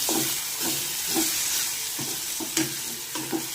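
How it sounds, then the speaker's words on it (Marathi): An eggplant bharit mixture fries in a pan with a constant hiss and sizzle, while a spoon stirs and scrapes at a steady, repeated pace, close and clear with no talking. "अशा पद्धतीने असं हे फ्राय करून घ्यायचं आहे."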